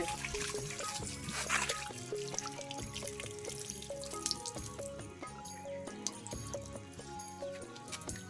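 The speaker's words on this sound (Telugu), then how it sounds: "ఈ కొట్టుడు బోర్ ఒకటి ఉంది చేతి పంప అంటారు" Water from a hand-pumped borewell in a remote tribal village splashes and trickles steadily, a busy wet patter with dripping close by and no voices over it.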